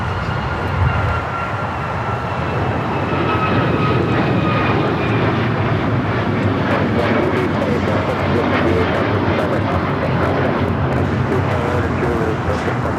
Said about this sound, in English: This is United Airlines 1293 taking off to Houston Intercontinental on the MAX 9